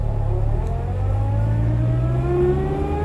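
Fiat 1500 convertible pulling away in first gear, its engine note rising steadily in pitch as it accelerates, heard close and continuous with no talk.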